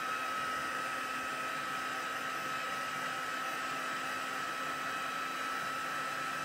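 A hair dryer blows over wet ink on a papercraft ocean scene made with reinkers, stencils and stamps. It gives a steady, loud, close whooshing roar with a constant motor whine and no pauses, and no voice is heard.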